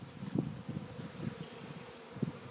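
A low, continuous buzzing of many honeybees swarming close by during a bee release, with a few louder pulses as individual bees pass near; no talking.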